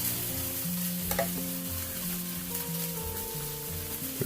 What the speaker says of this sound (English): You can probably hear the sausages sizzling in the background.